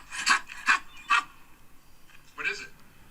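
A man imitates a dog's bark in a played recording, giving three quick close barks followed by a fourth after a pause, with faint background noise between them.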